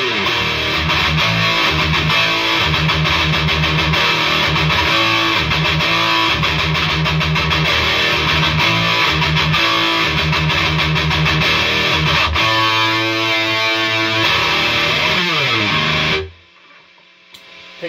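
Heavily distorted electric guitar riffs through a Pro Tone Gary Holt mid boost pedal into a Marshall amp, loud and sustained, then stopping abruptly near the end.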